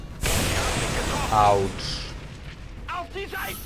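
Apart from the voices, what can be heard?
explosion in the video game XCOM 2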